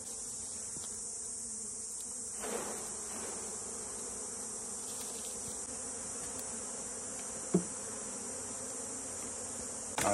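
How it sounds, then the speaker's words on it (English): Honey bees buzz in a steady, dense drone as they are shaken from a frame into a top bar hive box, with a few brief knocks and thumps from the hive work. "I will shake these bees into this box"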